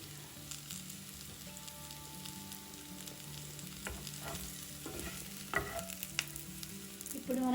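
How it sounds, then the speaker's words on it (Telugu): Curry leaves hit a pan of frying bitter gourd and onion, so a soft, steady sizzle runs throughout, and scraping stirs and clinks come more often toward the end. "ఇప్పుడు దీనిలో మనం దించబోయే ముందు కొద్దిగా కరివేపాకు వేసి వేయించుకుందాం."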